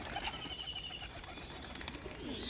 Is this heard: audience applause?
no